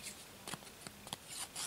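Scissors snipping through wrapping around a trading card package, a few quiet, close cuts with light paper rustling between them.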